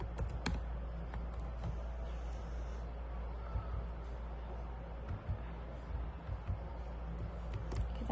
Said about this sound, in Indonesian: di sini kita coba masukkan emailnya.